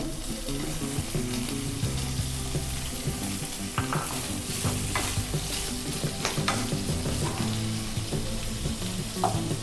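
Paneer cubes fry in a pan for kadai paneer, a steady crackling sizzle broken by several scraping stirs of a spoon, close and fairly loud with no talking.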